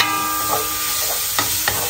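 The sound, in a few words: beef frying in a pan for noodle soup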